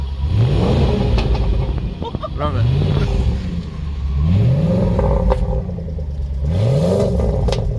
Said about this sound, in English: revving an SVR engine exactly as this engine